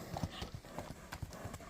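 Hooves of a horse clip-clopping on firm ground, a handful of distinct, unevenly spaced knocks, fairly quiet and close, with faint voices in the background.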